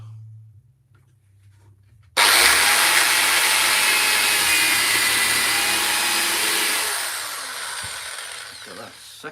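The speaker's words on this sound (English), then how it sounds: "drill this bit in first." After a quiet start, a power drill kicks in hard, driving into wood with a loud, high-pitched whirring grind for several seconds, then slowing and winding down near the end.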